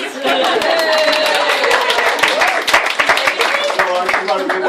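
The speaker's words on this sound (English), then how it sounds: "Round of applause from now. Now everybody" A wedding crowd breaks into a round of applause during a best man's speech, dense clapping close and loud for several seconds with chatter and a voice mixed in.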